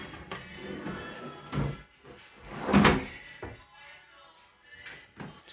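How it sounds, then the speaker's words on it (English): Soft-close drawers on a custom-built closet glide shut with muffled thuds and soft knocks spread over several seconds, one firmer bump in the middle, while someone talks nearby. "Soft close drawers."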